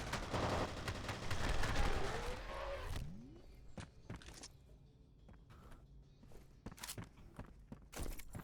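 Shotgun blasts in F.E.A.R. Extraction Point: a loud, chaotic stretch of combat noise gives way to several separate sharp booming shots spaced a second or more apart, mixed with quieter clatter.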